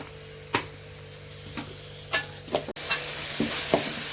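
Chopped onion and tomato frying in a pan give a soft sizzle, while a spoon stirs and scrapes in several distinct, irregular knocks close to the pan.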